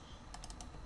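A few quick keystrokes on a computer keyboard, three or four soft clicks in a short burst, close but very quiet.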